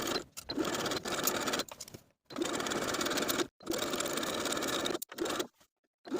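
A sewing machine stitches a shirred panel around the top of a puff sleeve top's bodice with a 1/2 inch seam allowance, running in steady close whirring bursts separated by short pauses, with no talking.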